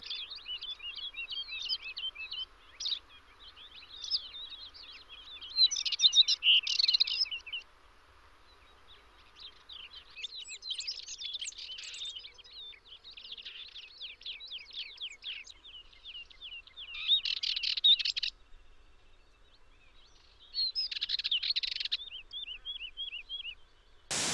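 Birds chirp and sing in spring breeding season across fields and hills of the Sierra de Guara, several overlapping calls in repeated bursts of trills and tweets, close and fairly clear, with brief quieter gaps between phrases.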